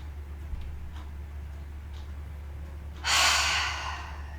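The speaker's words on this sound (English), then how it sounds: "Inhaling through that nose." A deep breath drawn in through the nose during a yoga session on a cork mat, one long close airy inhale that starts suddenly after a quiet stretch with only a low hum behind it.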